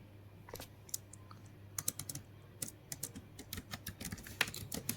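Rapid keyboard typing while writing SQL code, a quiet, irregular run of close clicks and key taps with no talking.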